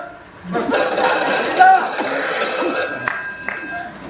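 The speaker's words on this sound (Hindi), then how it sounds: "यस आई नो फोन का घंटी बजता है" A telephone bell rings steadily for several seconds while people talk over it.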